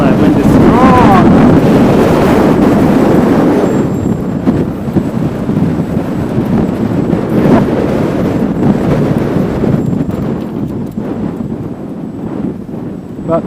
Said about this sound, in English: Oh, that wind is strong.